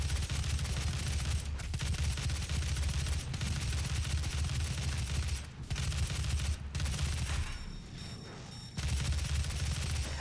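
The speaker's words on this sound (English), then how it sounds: "Who's shooting at me?" Heavy gunfire in Doom 2016 pours toward the player in sustained, rapid bursts, loud and dense, with short gaps and a quieter stretch near the end before firing resumes, no talk.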